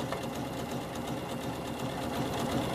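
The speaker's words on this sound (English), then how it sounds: "as it's called a triple stitch, you're sewing 3 rows of stitching, 3 rows of thread, all in one go" A sewing machine runs steadily on a slow triple stitch, sewing three rows of thread at once on NHS scrub trouser legs, with a continuous close mechanical whirr and rapid needle rhythm throughout.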